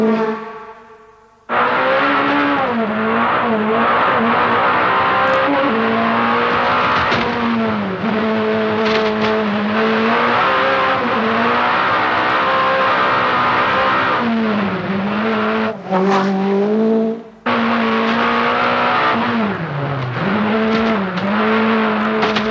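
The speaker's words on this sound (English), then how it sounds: "a man pushing his car to the absolute limit during the world-famous Pikes Peak hill climb" Peugeot rally car at full throttle in the Pikes Peak hill climb, its engine howling loudly and continuously as it shifts up and down through the gears, dropping to silence briefly mid-run before roaring back.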